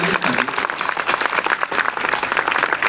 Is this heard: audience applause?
yes